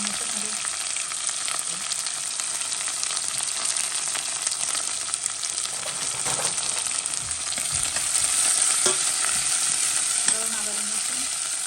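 Onion, garlic and green chili sautéing in a pan for Jaffna crab curry, a constant bright sizzle with light stirring scrapes, close and even throughout, without any voices.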